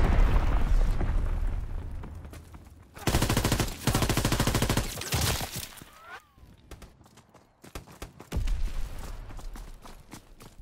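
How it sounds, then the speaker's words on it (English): Explosions and rapid gunfire from the Call of Duty WWII video game during mortar strikes, loud bursts of broadband blasts in clusters with brief quieter gaps between, a whooshing descending sweep midway, and faint voice in the mix. "Sending mortar rounds."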